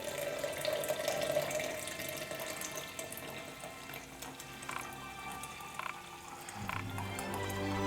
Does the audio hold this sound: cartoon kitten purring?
no